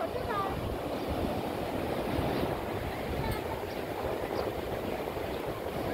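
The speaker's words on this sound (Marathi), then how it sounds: "अरबी समुद्र" Arabian Sea surf rolls onto the shore below the Kunkeshwar temple at a swollen high tide, a continuous broad wash of breaking waves mixed with gusty wind buffeting.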